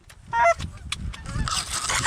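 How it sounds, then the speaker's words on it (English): Geese honk nearby during a waterfowl hunt in the Sandhills, several overlapping nasal calls rising and falling, with a hunter's low voice and some rustling mixed underneath. "we gotta try these geese"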